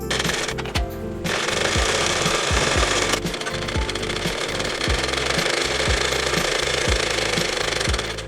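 Sewing machine stitching lace onto a puff sleeve runs steadily and close for the whole stretch, a fast, even mechanical rattle with faint handling thumps.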